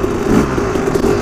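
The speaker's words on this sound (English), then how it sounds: "Had to rev her to the moon and back" Loud, close engine of a trials motorbike revved hard, a steady buzzing drone that holds throughout with slight rises and no pause.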